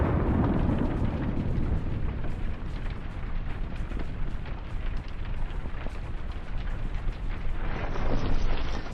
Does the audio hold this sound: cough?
no